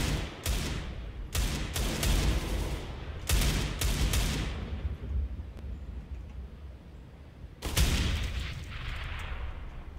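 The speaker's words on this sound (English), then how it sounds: "Flashbang." In a CS:GO match, a flashbang and other gunfire go off in several sharp, loud bursts, each with a ringing tail, spread across a few seconds of near-continuous noise.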